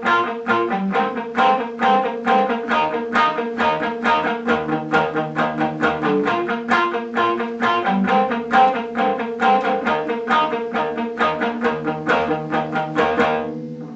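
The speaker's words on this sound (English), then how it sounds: "The lead guitar part in the bridge sounds like this." A busy, bright lead electric guitar line of rapid picked notes plays steadily with a repeating rhythm, loud and clear, with no voices.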